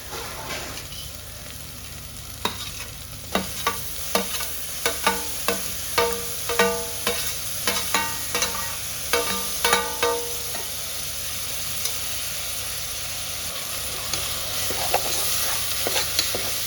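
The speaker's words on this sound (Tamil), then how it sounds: "இதுலேயே ஆல்மோஸ்ட் வெங்காயம் நல்லா வதங்கிடுச்சு" Onions sautéing with ginger garlic paste in a pan give a constant soft sizzle, with a series of rhythmic spatula scrapes and taps for about ten seconds before the stirring stops and the frying continues alone.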